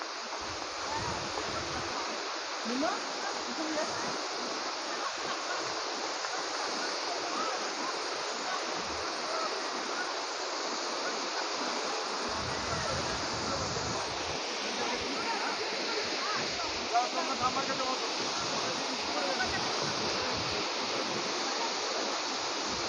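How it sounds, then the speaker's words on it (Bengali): Hundru Falls near Ranchi roars as a steady, dense wall of falling water, loud and continuous throughout, with faint voices now and then beneath the rush. "এই হলো গিয়ে সেই হুড্রু ফলস, ফাইনালি এসে গেছি"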